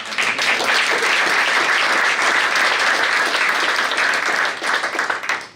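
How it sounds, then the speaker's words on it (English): An audience at a Colgate football locker room and academic center dedication breaks into loud, sustained applause, a dense wash of many clapping hands that holds steady for several seconds before thinning out toward the end. "Can I have a round of applause for her?"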